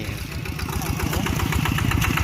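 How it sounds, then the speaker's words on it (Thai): A farm tractor ploughing a rice field, its engine thumping in a steady fast rhythm, close and fairly loud with no talk. "นี่ก็จะตามรถไถไปแบบนี้แล้วครับ"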